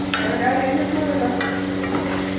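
Mutton and onions are stirred in a frying pan, a steady close scraping and sizzle with occasional sharp spoon knocks against the pan.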